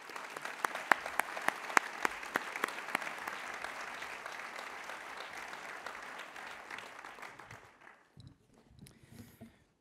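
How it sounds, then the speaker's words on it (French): Conference audience applauding as a speaker walks onto the stage at an innovation campus talk, many sharp claps over a steady wash that fades out near the end, leaving faint room noise. "j'appelle Laurent à nous rejoindre sur scène sous vos applaudissements."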